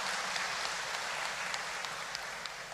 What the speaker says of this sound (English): A round of applause for that, please